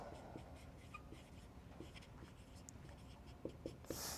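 A note being handwritten during a university fluid mechanics lecture, faint continuous scratchy pen or marker strokes with a few small taps near the end, close and quiet with no talk.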